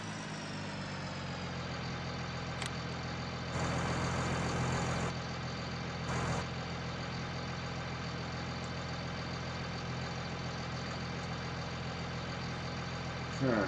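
Farm tractor engine idling steadily on a farm, a constant low drone throughout with a couple of brief louder bursts of noise partway through, no talking.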